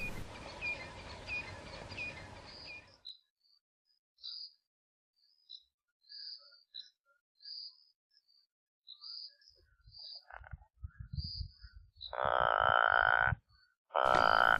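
Two male toads call in short, repeated croaking trills, fairly near and regular, followed by louder low rumbling bursts at the end.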